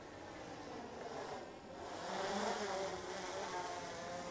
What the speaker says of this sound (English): So we're bringing the drone straight in here.